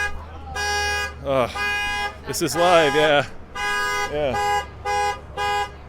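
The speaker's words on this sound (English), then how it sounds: "the alarm system on the Jeep Wrangler Unlimited Rubicon is working very well this morning" A 2017 Jeep Wrangler Unlimited Rubicon car alarm blares in repeated honking bursts, some steady and some warbling, with a voice speaking briefly between the blasts, outdoors in Moab, Utah.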